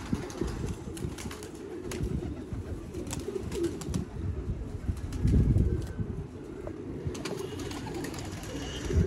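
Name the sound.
pigeons cooing and flapping wings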